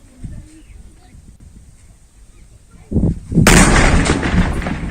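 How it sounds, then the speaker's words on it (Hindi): Quiet outdoor ambience with faint voices, then a deep, heavy blast as an army bomb disposal squad detonates a defused bomb, raising a dust cloud, followed by a loud, sustained roar and rumble. "इलाके में तेज धमाके के साथ धूल का गुबार उड़ा"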